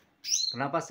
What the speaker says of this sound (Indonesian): Nah ini ada tadi suara bunyi kutilang ya kawan-kawan.